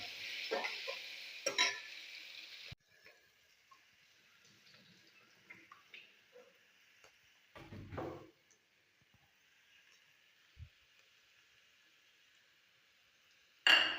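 Potatoes sautéing in a pan, a soft hiss and sizzle that fades after a few seconds, then quiet stretches broken by occasional stirring scrapes and clinks of a utensil against the pan.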